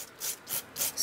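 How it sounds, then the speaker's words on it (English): Three quick, light scraping strokes of a sanding block over thin card, close up, each a soft rhythmic rasp. "I'm just very, very lightly sanding the top of this cardstock,"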